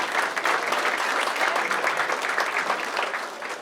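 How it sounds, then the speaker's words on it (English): An audience at a city's State of the City presentation gives a round of applause for the hosts, Lakes at Taylor, a full steady clapping from a crowd that carries on without pause. "So let's give a huge round of applause for Lakes at Taylor hosting us today"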